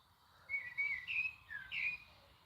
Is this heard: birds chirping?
yes